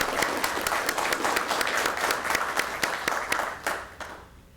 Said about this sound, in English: If we could give them a quick round of applause